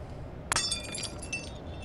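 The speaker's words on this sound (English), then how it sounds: "Hey yo, Shadow Lion, I think I heard a glass break." Glass breaking in a game: a single sharp shatter followed by a scatter of tinkling shards that fades quickly, with no talk.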